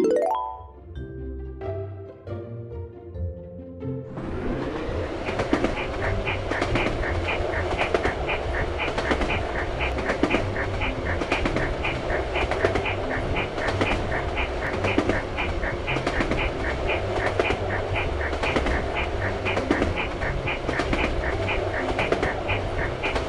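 A steady, loud rumble of a cartoon train pulling 61 wagons with a rhythmic clatter running throughout, after a few soft tones at the start.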